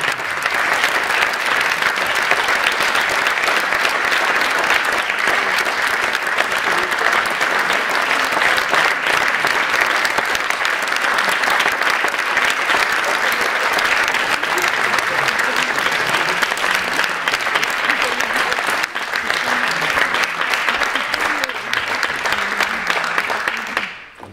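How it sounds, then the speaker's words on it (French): Sustained loud applause from a large audience at a gala concert, steady and dense throughout, fading out only at the very end. "que je vous demande d'applaudir"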